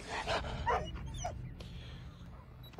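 A dog in the Call of Duty Mobile game barks and whimpers in a few short yips and whines, fairly quiet and spaced out over soft background noise.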